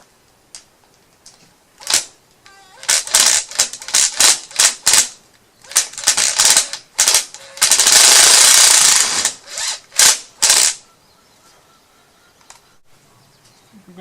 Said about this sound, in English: Pre-drill some of these holes with these short screws and use a long screw to pry it over where it belongs